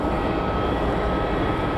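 A Boeing 737 airliner at Phoenix Sky Harbor airport gives a steady, broadband engine roar that holds at an even level throughout, with no voices over it.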